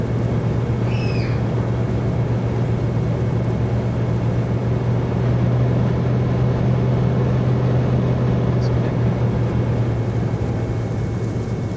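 Steady drone of a Carenado Cessna C182T single-engine propeller engine in X-Plane 11, a constant loud hum with a strong low tone and no change across the whole stretch, with no voices.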